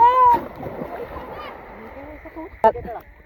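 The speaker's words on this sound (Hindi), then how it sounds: "तो भैया अभी मैं जा रहा हूँ ये पानी के अंदर।" Someone jumps into a village pond, and the water gives a single sharp splash near the end. Excited voices talk and call out over it.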